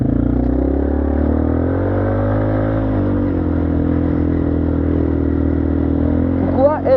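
A 200cc quad bike's engine idles after being restarted, a loud close steady drone whose pitch sags slightly then holds, with a brief clatter at the end.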